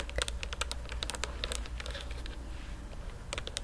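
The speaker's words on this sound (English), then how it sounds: "I feel like I could just do a whole nother video where I'm just typing." Computer keyboard typing, rapid irregular clicks and taps of the keys in bursts with brief pauses, close and fairly quiet, with no voice.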